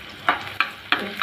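Chopped onion frying with panch phoron for a bitter gourd leaf shak is stirred in four distinct scraping strokes, each a brief rasp over a steady, close sizzle.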